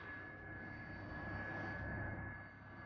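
A Sukhoi Superjet 100 regional jet at the Farnborough Air Show gives a steady, distant engine roar with a faint high whine, fading slightly at the end.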